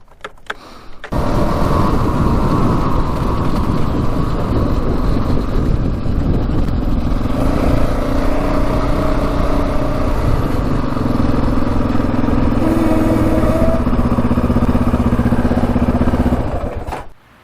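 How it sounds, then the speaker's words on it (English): A Yamaha Raptor 700 sport quad's engine starts up and runs loudly and steadily, its pitch shifting with throttle changes, then cuts off abruptly at the end. "Engine sounds amazing on it."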